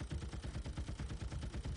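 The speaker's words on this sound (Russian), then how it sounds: "Пулемет Максима стреляет так быстро" Rapid, evenly spaced bursts of automatic gunfire from a Maxim machine gun in a continuous rhythmic stream, fairly loud and close.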